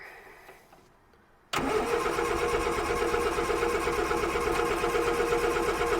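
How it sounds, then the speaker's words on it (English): A Ford 100e Anglia engine, parked for a month, cranks close up: a short quieter stretch, then from about 1.5 s a loud, steady, rapid rhythmic turning-over that keeps going to the end with no voices. "So, hopefully with only a few more cranks, it will start."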